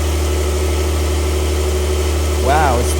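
Porsche 992 Turbo S engine idling steadily with its exhaust valve closed, a low, even drone that stays fairly subdued throughout, with a brief voice near the end.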